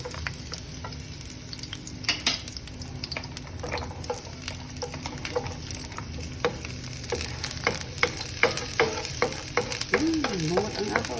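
Garlic sautés in a pan for Spam fried rice, a steady close sizzle broken by frequent scraping and clinking stirs from a utensil, with no voices.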